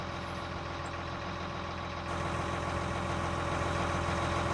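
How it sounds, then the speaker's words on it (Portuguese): A truck engine in Farming Simulator 19, a strained 440 HP rig pulling trailers, drones steadily with a low rumbling idle that grows slightly louder partway through, continuous and without speech. "esse caminhão aqui já tá bem sofrido, 440 HP para puxar essas carretas aqui, tá muito pouco"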